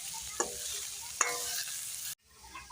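Sarson ka saag (mustard greens) sizzles steadily in the pan while a spoon stirs it, giving a couple of sharp scraping knocks, then the sound cuts off and returns quieter.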